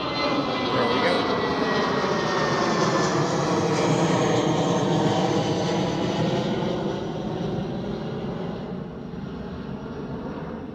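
A British Airways jet airliner taking off from Amsterdam Schiphol, a loud engine roar with a rising and falling whine that fades toward the end as the aircraft climbs away. A voice comes through at moments.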